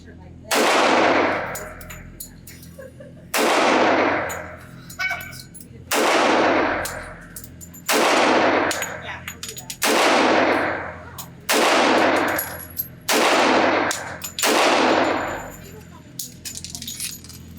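Remington R1 1911 pistol firing at a target on a range, eight loud, close shots spaced roughly two seconds apart, each ringing out with a metallic tail; faint speech sits between shots.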